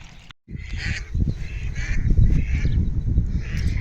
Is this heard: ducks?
yes